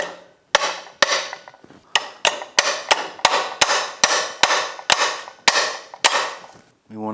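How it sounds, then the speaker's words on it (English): A woodruff key is tapped into the drive shaft channel of a Yamaha 90 outboard (B90TLRX) during water pump replacement, giving about a dozen sharp, ringing metal hammer strikes at a steady, close rhythm, with no talk. "just tap it in with a hammer"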